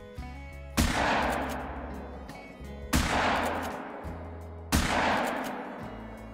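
Three sharp gunshots ring out while hunting European rabbits, each a loud crack followed by a long rolling echo, spaced about two seconds apart outdoors.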